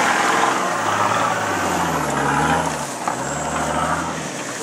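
Nissan Patrol off-road vehicle engine rumbling steadily as it drives through rocky terrain, a low continuous drone that dips briefly and recovers, loud and close with no talk.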